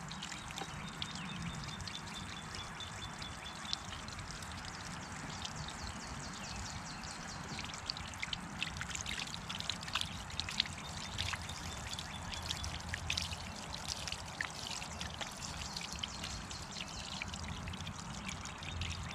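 Running water pours steadily over a freshly cleaned trout being rinsed, a continuous close splashing stream with small irregular drips and spatters, no talking.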